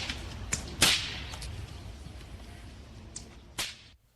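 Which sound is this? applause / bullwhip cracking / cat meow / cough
bullwhip cracking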